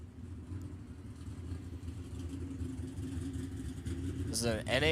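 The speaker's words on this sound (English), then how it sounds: "Got a Pro Stocker coming up next." An NHRA pro stock drag racing car at a nostalgia drag racing event rumbles at a distance, its engine drone building steadily and rising sharply into a revving burst at the end.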